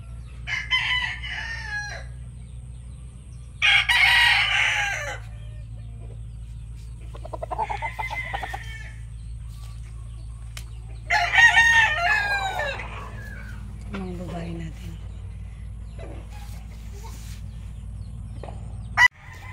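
Elson's Gray chickens in a breeding pen crow and cluck, with several loud, drawn-out crows from close by, separated by quiet stretches over a low steady hum.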